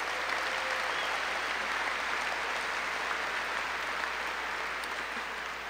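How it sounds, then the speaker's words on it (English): An audience at a high school graduation ceremony claps in a sustained, even burst of applause from many hands, filling the hall without voices. "Please give them a round of applause."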